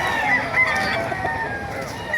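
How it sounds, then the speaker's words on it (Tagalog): Roosters crow and chickens cluck at a poultry market in Bocaue, Bulacan, a busy close mix of calls overlapping against crowd murmur. "Dito sa dulo, may mga manok dito, mga kelso"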